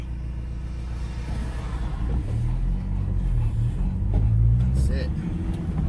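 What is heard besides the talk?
road traffic passing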